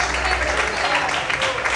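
A church congregation applauding during a worship service, a steady dense wash of clapping that fills the whole moment, with voices mixed in.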